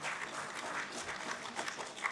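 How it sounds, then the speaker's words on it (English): An audience at a national business excellence awards ceremony in a New Delhi hall claps for honorees, a dense, continuous spatter of applause at a moderate distance for about two seconds. "Can we have a huge round of applause for them?"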